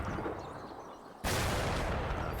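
Tanks trading fire in the Panzer Campaigns France 1940 wargame at Arras: a single loud, sudden blast cuts in halfway and rings out as a dense, sustained roar over a low rumbling battle bed.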